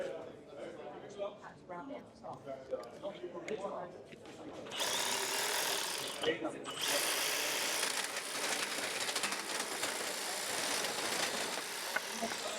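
A Milwaukee hedge trimmer buzzes hard and continuously as it chews through softwood and hardwood dowels, loud and close, after a quieter stretch of low mechanical handling noise.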